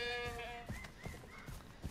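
Goats bleat in the video game Far Cry 3: one clear, drawn-out bleat opens, followed by a few shorter, fainter calls, all fairly quiet with no talking.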